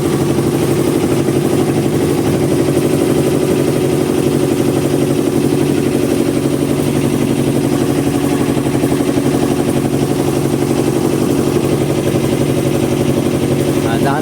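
A small wooden fishing boat's worn engine running after starting, a loud continuous mid-pitched rattling drone that holds steady throughout, close by with no talk.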